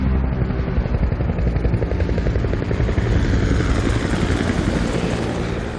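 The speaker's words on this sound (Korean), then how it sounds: "시카리오에서 등장하는 이 장면에서 낮게 깔리고 있는 음악은 헬기의 프로펠러 소리와" A helicopter's throbbing rotor in a scene from the film Sicario merges with a low, brooding music score into one loud, continuous drone that swells slightly and holds steady throughout, with no voices.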